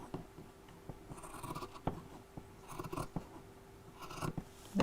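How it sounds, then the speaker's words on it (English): Scissors snip through fabric for a Christmas apron in a series of quiet, close crisp cuts with small rustles between them. "And let's just cut that round like that."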